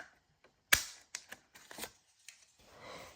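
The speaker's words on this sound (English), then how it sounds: "I have some cardstock here. I have a heart punch." A heart punch snaps through cardstock with one sharp, loud click, followed by a few softer clicks and paper rustles, then a brief scraping shuffle.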